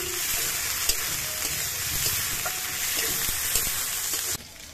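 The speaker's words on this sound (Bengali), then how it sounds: "এবার এই আদা রসুন আর পেঁয়াজ গুলোকে কিছুক্ষণ ভেজে নিতে হবে" Ginger, garlic and onion paste fries in a pan with a dense, even sizzle and occasional faint spatters, steady and close until it drops away abruptly near the end.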